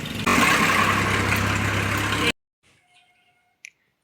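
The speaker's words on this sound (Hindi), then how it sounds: "ट्रैक्टर आवाज वही दे, ट्रैक्टर आवाज हुई दूर" A tractor engine roars loud and close in a steady, rough drone for about two seconds, then cuts off abruptly, leaving near-silence with a few faint knocks and a brief click.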